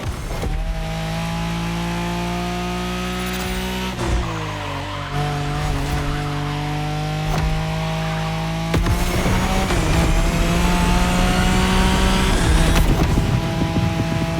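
Nissan Skyline tearing through a Wangan highway race in The Crew Motorfest, its engine droning loud and steady with shifting revs, tires squealing and skidding intermittently over continuous road roar.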